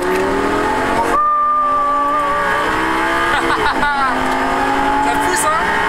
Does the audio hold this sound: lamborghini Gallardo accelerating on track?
yes